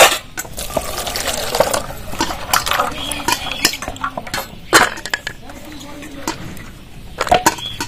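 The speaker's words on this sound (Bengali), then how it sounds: "বাটিটা ধুইয়ে ওই কাজু কিশমিশগুলো এবার ধুয়ে নেব।" Cashews and raisins are washed in a bowl of water, with close, busy sloshing, stirring and clinking against the bowl in irregular bursts over eight seconds.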